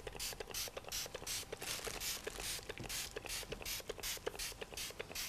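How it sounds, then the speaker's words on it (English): A herb and mineral spray pumped onto skin in rapid repeated bursts, each a short, faint, close hiss from a hand pump bottle, with no one talking. "So I'm just going to spray the skin."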